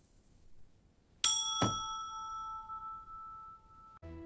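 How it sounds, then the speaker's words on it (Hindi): A bright bell rings once, then again with a sustained ringing tone that lingers for a couple of seconds before a third strike at the end. "फिर बड़े गर्व के साथ घंटी बजाई"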